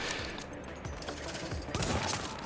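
Gunfire from a bolt-action rifle in the video game The Division, a few sharp, fairly quiet shots over a busy background of other weapon and game sounds.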